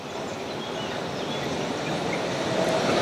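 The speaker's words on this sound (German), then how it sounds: "das schaut nach einer ordinären DB Cargo Trax Maschine aus, die dort vor dem Mischer läuft." A DB Cargo Traxx electric locomotive hauls a freight train with a mixer wagon past the lineside, its rolling rumble loud and steady, building slightly as the train passes, with no voices.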